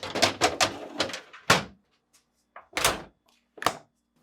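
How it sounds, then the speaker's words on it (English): GE refrigerator meat pan and crisper drawers slid back into place, a quick run of close knocks and thuds followed by a few separate heavier thumps with short pauses between them, no voices. "Finally, reinstall the drawers by aligning and pushing back into place."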